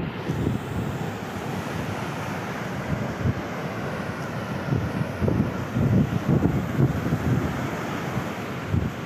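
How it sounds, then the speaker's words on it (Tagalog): Loud, continuous roar of heavy surf at Cagayan Bay with repeated low crashing surges, mixed with gusty wind buffeting the microphone; no voices. "Lakas ng alon,"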